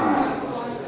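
A red-haired Simmental cow at a livestock market gives a short, low moo against a backdrop of market chatter and background voices.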